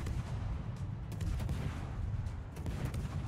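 Warship guns fire in the online naval game World of Warships, rolling booms and sharp cracks bursting repeatedly in quick succession over a low rumbling battle background, with no voices.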